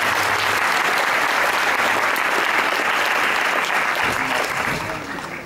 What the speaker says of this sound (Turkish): büyük alkışlar.